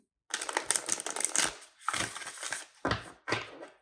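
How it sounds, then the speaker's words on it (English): Tarot cards being reshuffled by hand, close crisp riffling and slapping bursts in several separate rounds with short pauses between, no voices. "even though I already shuffled these, I just want to reshuffle."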